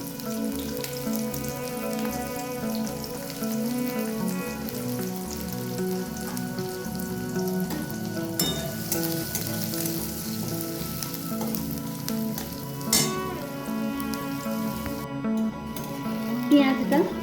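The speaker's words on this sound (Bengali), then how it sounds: "পেঁয়াজটা মিনিট 2 সময় ধরে ভেজে নিয়েছি।" Chopped onion fries in hot oil tempered with garam masala, giving a dense, continuous crackling sizzle throughout with a few brief utensil scrapes near the end.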